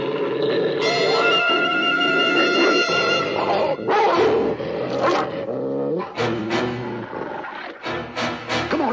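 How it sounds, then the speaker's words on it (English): A pack of many dogs barking and baying loudly and close in a rough neighbourhood, overlapping barks in dense, continuous bursts with no speech. "Dogs, a lot of dogs."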